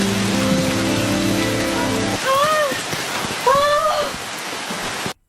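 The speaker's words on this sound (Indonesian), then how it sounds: "tiba-tiba turun hujan sangat lebat" Heavy rain pours down in a dense, loud hiss throughout, with a low droning tone underneath at first and brief voice-like sounds rising over the downpour before it cuts off abruptly.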